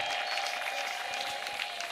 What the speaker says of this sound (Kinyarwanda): reka dukomere Yesu amashyi menshi